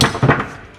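A single hard hammer blow lands on a BMW E90 differential part during a rebuild, a loud close metallic thud that rings briefly and then fades.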